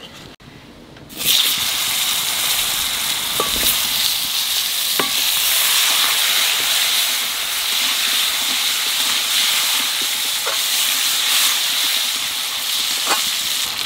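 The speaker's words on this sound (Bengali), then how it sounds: "এইবার আম দিয়ে দেবো।" Raw mango pieces dropped into a hot pan with oil and sugar, a sudden burst of loud sizzling that settles into a steady crackle, with occasional clinks of utensils.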